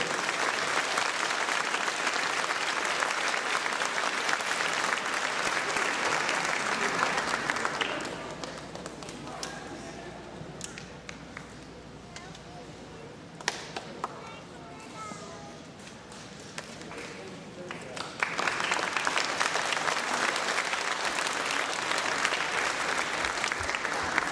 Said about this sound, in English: a big round of applause for all of our inventors